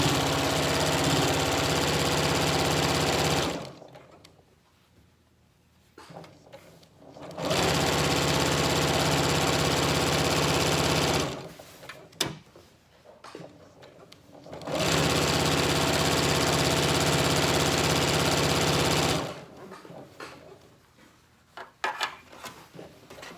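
A sewing machine runs in three loud, steady bursts stitching a quarter-inch seam with backstitching, each run several seconds long and separated by quiet pauses with faint handling noises.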